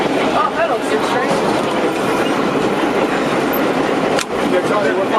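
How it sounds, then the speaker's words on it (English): New York City subway 6 train passing close by, a loud continuous rumble of wheels with clickety-clack over rail joints and some faint squeal, alone without talk. "Oh, hello, 6 train."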